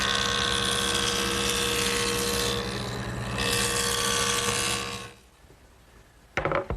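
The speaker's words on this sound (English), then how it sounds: "the next thing I want to do is joint this back edge so that it's straight and square." A jointer cuts along the back edge of a sanded wood panel for a Shaker woodbox, a loud continuous machine whine and cutting roar for about five seconds, then quiet before a brief renewed burst.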